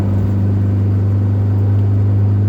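A struggling 4-cylinder truck engine drones in a steady, loud low rumble, holding a constant labored tone without talk for the whole stretch.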